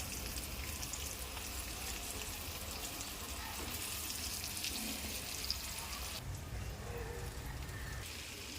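Fish pieces shallow-frying in hot oil in a pan during the last batch, giving a steady, close hiss and crackle that runs throughout without letup.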